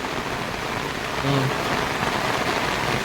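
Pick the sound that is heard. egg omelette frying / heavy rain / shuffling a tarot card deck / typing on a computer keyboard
heavy rain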